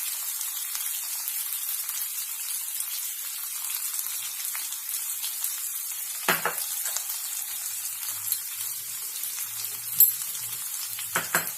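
A potato mixture with sugar and salt fries in a pan, giving a steady, even sizzle with a few brief clinks of stirring, close by and with no talking.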